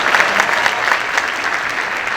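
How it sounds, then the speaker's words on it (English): Loud, sustained applause from a school audience at a high school band concert, honouring the pipe band instructor, with dense clapping that runs unbroken throughout. "give her a round of applause"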